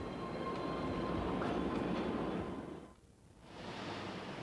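A train rumbles steadily on a six-mile historic railroad with steam-era locomotives and cars in Chattanooga, Tennessee, a loud continuous rolling roar that dips briefly near the end before returning.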